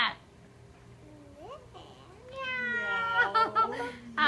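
Someone imitating a cat's meow in a playful animal-sounds game: a rising, wavering vocal tone, then a longer drawn-out meow with giggly breaks near the end, close and clear.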